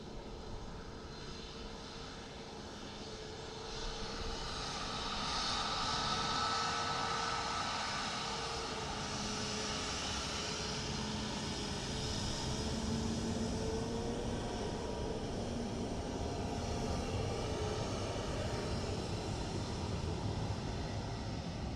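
A Ryanair airliner arriving from Stansted at Dublin Airport makes a broad, distant jet roar that swells after a few seconds, then holds as a steady, sustained rumble with no talking.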